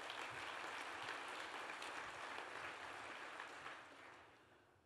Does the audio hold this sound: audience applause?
yes